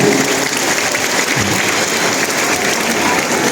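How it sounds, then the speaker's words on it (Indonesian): A congregation claps for the priest at a Catholic Mass on the patron feast of Saint Dominic, giving a loud, steady, dense round of applause that holds evenly from start to finish. "Kita beri tepuk tangan untuk Romo Jun yang sedia."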